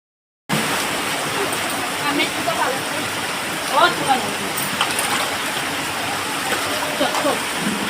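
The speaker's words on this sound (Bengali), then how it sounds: "দেখো কত পানি ভরছে," Floodwater pouring in and filling up around a home, a loud continuous rushing wash like a stream with occasional splashes, starting abruptly and holding steady throughout.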